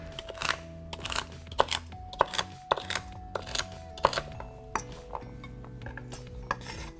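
A knife chops two rinsed, dried celery stalks on a cutting board, a series of sharp, close taps in an irregular rhythm with quiet gaps between strokes.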